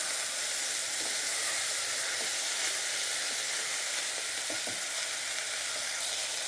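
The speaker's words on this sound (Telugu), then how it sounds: "ఇప్పుడు బాగా మిక్స్ చేసుకోండి. ఉల్లిపాయలు, బీరకాయ ముక్కలు కలిసిపోయేంత వరకు." Ridge gourd pieces and onions fry in a pan with a steady, dense sizzle and hiss, joined by a few soft scrapes of stirring, close and continuous with no talking.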